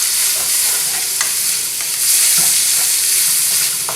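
A half cup of onions sautéing in a pan, a loud continuous hissing sizzle up close with a few faint clinks, no voices.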